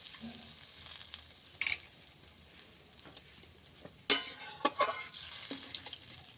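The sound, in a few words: fish curry broth boiling in a pan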